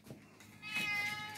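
A house cat gives a single drawn-out meow in a country kitchen, quiet at first and then swelling, with no talk over it.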